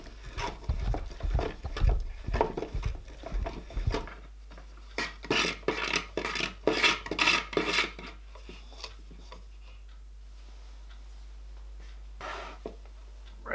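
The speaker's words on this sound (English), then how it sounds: "So we'll keep screwing this in, and I'm holding this nut on the inside here" A threaded shaft being screwed into a small barrel shot glass holder while a nut is held inside: close bursts of gritty rasping and rubbing in uneven strokes, then a quiet stretch and one brief final scrape.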